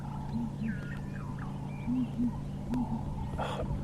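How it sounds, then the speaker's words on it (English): Southern ground hornbills give deep, booming hoots in a safari setting, heard as low paired calls that repeat several times over steady bush ambience with faint birdsong. They sound moderately distant. "Beautiful bird, ground hornbill"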